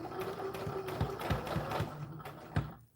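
A sewing machine stitches the bodice of an American Girl doll dress, a close, steady run of rapid rhythmic needle thumps that stops at the end, with no talk.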